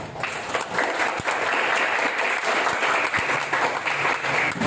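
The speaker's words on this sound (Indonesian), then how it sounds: "Aplaus untuk kita semua, ya Pak." A classroom group applauds at the close of a lesson, with dense steady clapping from many hands that continues loudly throughout.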